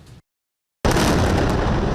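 A loud, dense roar of explosions at night in Gaza City during wartime fills most of the moment, broken by a sudden drop to near silence before a sustained, heavy rumbling blast surges back and holds.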